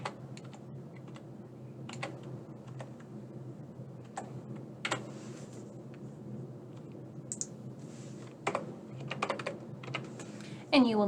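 Form details being entered on a computer keyboard: irregular bursts of light key clicks over a faint steady background hum, close and fairly quiet, with a louder cluster near the end.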